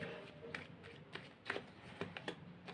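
A tarot card is drawn from the deck, giving soft shuffling and sliding card rustles with a few light flicks and snaps, close but faint, with no talk.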